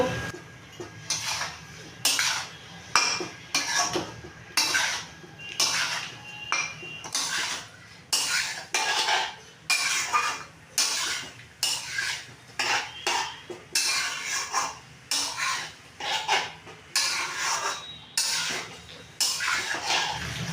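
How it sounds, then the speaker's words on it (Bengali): Spiced jackfruit curry stirred in a cooking pan with turmeric and dry chilli powder: a steady run of rhythmic scraping and clanking strokes of a spoon against the metal pan, repeated roughly every second for twenty seconds, with no talk. "এবার আমি নাড়বো"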